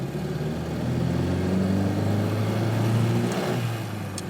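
An 80-year-old Austin 7 affordable family car, low geared, accelerating hard with a steady, buzzing engine drone that rises in strength, then drops briefly near the end as it shifts between gears.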